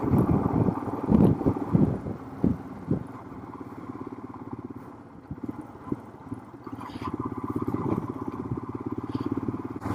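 A Royal Enfield Himalayan motorcycle riding through floodwater, its engine rumbling steadily close to the microphone with irregular splashing and wind buffeting, busier at first and then settling into a continuous drone.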